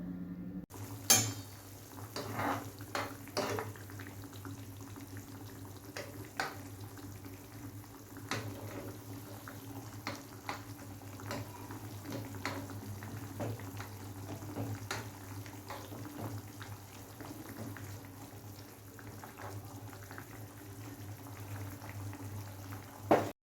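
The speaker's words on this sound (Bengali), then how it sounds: "আম আমার সেদ্ধ হয়ে গেছে।" Green mango simmers in a little water in a covered pot, a soft continuous bubbling with scattered lid and pot clinks and a sharp knock near the start.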